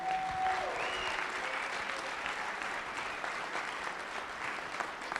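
A conference audience applauds national IP organizations, sustained dense clapping from a crowd throughout, steady and fairly even with no break.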